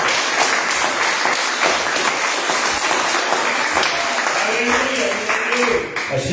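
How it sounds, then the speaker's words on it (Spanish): A church congregation breaks into strong, steady applause for the Lord, loud and continuous, with voices rising toward the end. "denle un aplauso fuerte al Señor"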